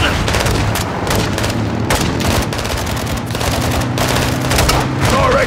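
Heavy gunfire and explosions in the Call of Duty Modern Warfare II video game, a loud continuous barrage of shots and booms with combat voices shouting over it.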